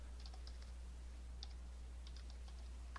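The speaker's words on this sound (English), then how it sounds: "Type in our username, and for John Smith" Soft, sparse keystrokes on a computer keyboard as a username is entered, faint clicks scattered over a steady low hum with no talking.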